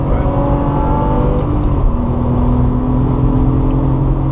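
Loud, close engine drone of a Porsche 997 Targa 4S accelerating on a race circuit, the tone climbing steadily as revs build with a throaty mechanical whir.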